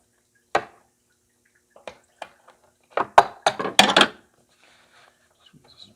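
Coolant from a Lumina's cooling hose dripping during disassembly: a few sparse, close taps spaced out, then a brief rapid cluster of sharper drips and splats before it trails off into near silence.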